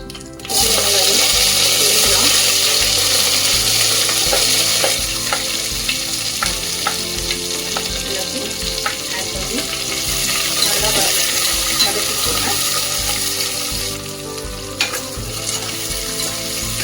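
Sliced onions for vegetable biryani sizzle loudly in a hot pan, with a constant frying hiss and intermittent scraping of a spatula as they are stirred.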